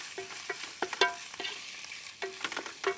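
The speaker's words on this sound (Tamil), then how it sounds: "இஞ்சி பூண்டு பேஸ்ட்டையும் போட்டு அப்படியே கிளறிப்போம்." Ginger garlic paste frying in a pan for thokku biryani, stirred in quick scraping strokes over a soft, close sizzle, with no voices.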